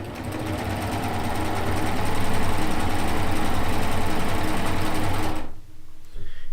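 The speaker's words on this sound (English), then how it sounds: "Yes, you can chain piece on a serger." A serger sewing machine hums loudly and steadily, chain piecing quilt rows in a continuous run before stopping abruptly near the end, leaving a brief quiet tail.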